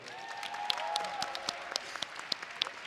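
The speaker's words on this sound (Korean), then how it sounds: "큰 박수 한번 쳐주시자고요." A crowd at a featherweight title MMA fight applauds the champion, soft distant clapping with a few sharper claps standing out, under a faint hum of the arena.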